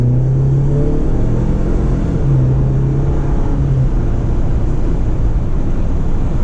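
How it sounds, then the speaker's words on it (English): A 2018 Jeep Wrangler with a 2.0L turbo engine accelerates moderately, not floored, its engine drone rising steadily under loud, constant road and cabin rumble, heard from inside. "I'm going to accelerate here"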